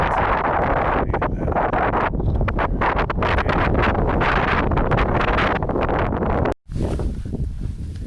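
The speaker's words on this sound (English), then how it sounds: "That wind is cool" Steady, loud wind gusting across the microphone on a mountain hike at Lago Sorapis, a continuous buffeting roar with a brief drop near the end.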